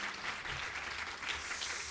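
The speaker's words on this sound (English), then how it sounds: "So a grand applause for him." An audience applauds a dedicated colleague during a live broadcast, with dense, steady clapping throughout that stays even in loudness and carries no talk over it.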